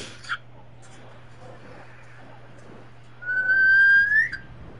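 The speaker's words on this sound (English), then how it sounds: "Please stop whistling." A person whistles, a single sustained rising note lasting about a second, fairly close and clear against a quiet background with a low steady hum.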